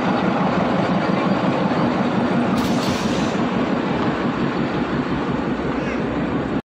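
Darjeeling Himalayan toy train rolling along a single-track line near Kurseong, a steady loud rumble of wheels and carriages with rhythmic clatter throughout, ending abruptly.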